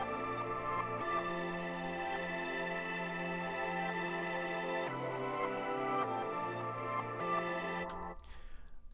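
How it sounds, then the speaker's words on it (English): A layered trap-style melody with reverse piano swells, drenched in wide, atmospheric reverb, plays continuously and loud, with a few section changes before trailing off into a reverb tail at the end. "this is what the melody and reverse piano sound like together."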